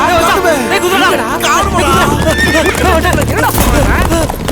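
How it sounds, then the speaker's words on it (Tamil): A horse whinnies loudly as hooves clip-clop close by, set in a busy Tamil film scene where several voices talk and call out over the animal throughout. "அங்க பாரு, குதிரை வருதா?"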